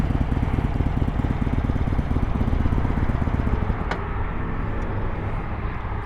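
A motorcycle rolls along at low throttle, its engine a steady, subdued drone buried in wind rumble, with no speech.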